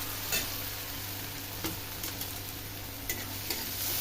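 Onions sizzle steadily in a pan on the stove, a soft continuous frying hiss broken by several light scrapes and taps of a spoon stirring, close and fairly quiet with no talking.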